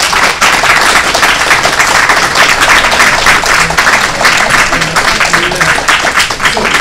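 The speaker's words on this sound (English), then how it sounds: "Round of applause for our panelists," Audience applause for a panel discussion at a political talk event, steady dense clapping from a full room sustained loudly throughout with no break.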